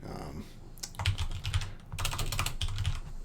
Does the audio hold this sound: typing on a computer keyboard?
yes